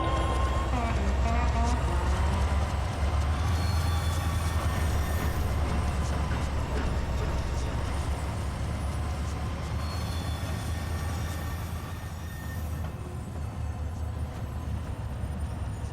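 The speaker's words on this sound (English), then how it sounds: "Now I need to switch freight cars for a train that'll be departing tonight." Low rumbling of freight cars being switched, rolling slowly on rails, with clanks and metallic screeches rising over a steady heavy drone.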